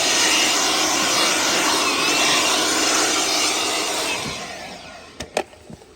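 A chainsaw on an Alaskan mill cuts lengthwise through a sappy log, a loud, steady high-pitched engine roar that holds for about four seconds, then fades as the cut ends, followed by a few brief knocks.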